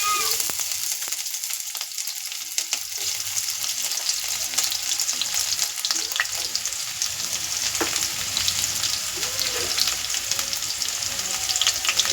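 Onion and chili fry in a pan, giving a dense, steady, close sizzle that holds evenly for over ten seconds without speech.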